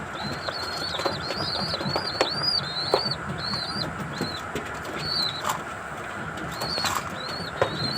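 Young pigeons kept in a cage give repeated short rising chirps and calls alongside occasional wing flaps, fairly close and steady over a low background rumble.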